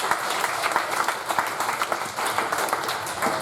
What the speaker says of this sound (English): Give Kelly a round of applause.